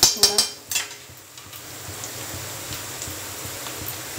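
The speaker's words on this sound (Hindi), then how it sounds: "तो फ्रेंड्स हम प्याज डाल के इसको भून लेते हैं, प्याज को हल्का गोल्डन ब्राउन होने तक।" Onions fry in a pan for poha, with a few sharp clinks of a spoon stirring against the metal at the start. A steady soft sizzle then continues beneath, close and even, with no voices.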